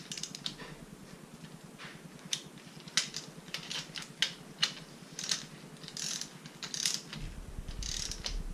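A hand ratchet clicks steadily while tightening bolts on a Mazda RX-8 rotary engine during a rebuild, with quick bursts of ratcheting strokes and sharper clacks, close up and fairly quiet, with no talking.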